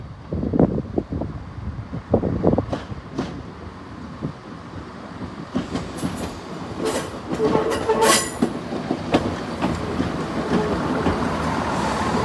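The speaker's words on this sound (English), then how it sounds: "And the 12:24 East Midlands Railway service from Leicester." East Midlands Railway passenger train from Leicester rolling past up close, a building rumble and clatter of wheels with a sharp wheel squeal toward the end, wind buffeting the microphone throughout.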